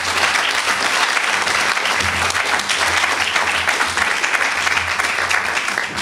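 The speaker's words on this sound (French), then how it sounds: "je voudrais vous inviter à remercier par vos applaudissements" Loud, sustained applause from a conference audience at a top management meeting, dense even clapping filling the room without pause and a faint low hum underneath.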